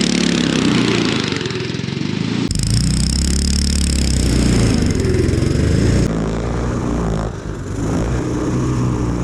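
A cheap homemade kid's snowmobile runs with a steady, loud small-engine drone close by, its tone shifting slightly as it moves along and briefly dipping near the end.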